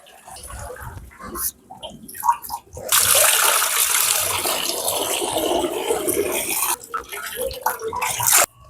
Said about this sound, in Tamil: நாங்கள் புளிஞ்சு நாங்கள் சட்டியில வடிச்சு விடுவோம்